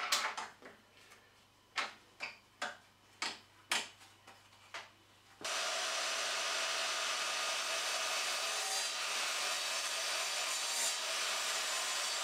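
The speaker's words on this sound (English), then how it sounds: "So I'm going to cut a piece of wood to fit in there from this block." Hand saw cutting a piece off a wooden block, about a dozen rhythmic rasping strokes, close and distinct, followed by a steady loud broadband whoosh for the rest of the time.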